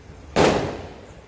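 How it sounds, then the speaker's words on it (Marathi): One sharp firecracker bang bursts out suddenly during Lakshmi Puja celebrations, then fades into a fizzing decay against quiet background noise. "फटाके वगैरे चालू आहेत."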